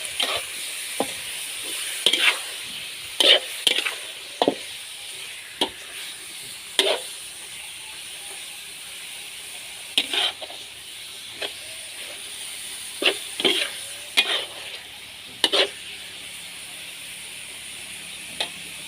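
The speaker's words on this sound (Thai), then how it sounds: "ผัดกะเพราเครื่องในไก่นะคะ" Steady sizzling and hissing of chicken offal stir-frying with holy basil in a large wok, broken by repeated sharp scrapes and clanks of a spatula stirring.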